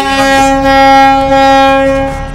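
A launch's horn at Sadarghat river terminal in Dhaka sounds as one loud, sustained tonal blast lasting a couple of seconds, close and dominating the scene.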